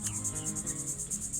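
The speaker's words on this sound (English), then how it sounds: "So we're here to record that. Swarm of bees." A swarm of honeybees at a neighbor's house drones steadily, a dense continuous insect hum with a pulsing high-pitched buzz layered over low rumble, close and fairly loud.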